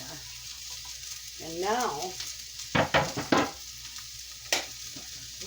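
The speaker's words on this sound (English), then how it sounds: "We're going to get these sauteing." Stuffing ingredients sauteing in a hot pan on a stovetop, with a steady sizzle under stirring scrapes and a few sharp utensil knocks against the pan, while a person talks briefly.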